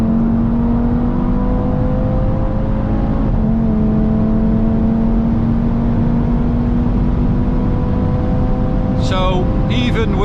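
An Audi RS3 with KW suspension, gearbox in sport mode, pulls hard at full throttle on the Autobahn, a loud steady engine drone rising slowly in pitch throughout, with a quick gear-change blip near the end.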